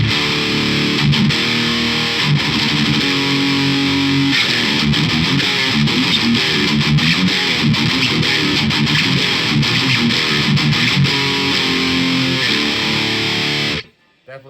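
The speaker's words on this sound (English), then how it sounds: "Definitely good for old school thrash and death metal tones." A heavily distorted electric guitar through a modded Orange Micro Dark small amp, shape knob fully clockwise, plays chugging thrash-style riffs and chords, gritty and loud, before cutting off abruptly at the end.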